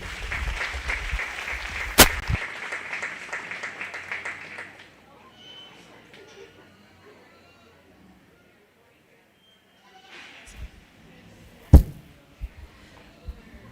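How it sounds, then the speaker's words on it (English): An audience at a 4-H/FFA goat and goat kid show bursts into applause for the young exhibitors, a few seconds of steady clapping with a sharp slap, fading into quiet before a loud knock and a brief stir of noise. "Let's go ahead and give them a nice round of applause."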